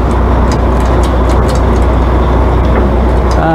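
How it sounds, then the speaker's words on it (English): A John Deere 3140 tractor diesel engine idling loudly up close, a steady low droning rumble that holds throughout with a faint tonal change near the end. "That there is the engine shut off."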